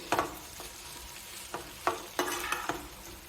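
Raw green banana pieces sizzle softly in oil in a pan, with several sharp scraping stirs of a spatula punctuating the low, steady frying hiss.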